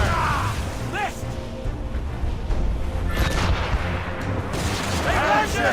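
Heavy cannon fire booms in a naval battle in a video game, sounding as loud, repeated blasts over a thick rumbling battle mix while voices shout orders throughout.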